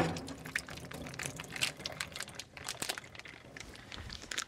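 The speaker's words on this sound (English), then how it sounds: "We'll just drain out the water." Water drains from an opened pack of firm tofu, a close, quiet run of trickling and splashing mixed with crinkling plastic packaging, with no talking.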